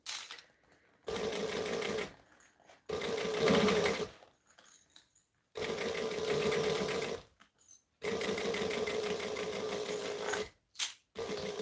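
Sewing machine stitching piping onto fabric in several loud, close bursts of rapid mechanical whirring, each lasting one to three seconds and separated by short silent pauses.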